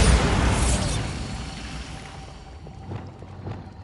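A Bombarda blasting spell from a Hogwarts video game goes off as a loud, broad rumbling burst that decays over a couple of seconds, followed by a few fainter thuds and crackles; no talk.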